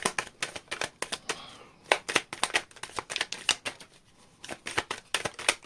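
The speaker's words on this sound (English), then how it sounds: "Okay, last shuffle." A tarot deck is riffled and bridged in quick bursts of crisp, close card flutters, several shuffles in a row separated by brief pauses.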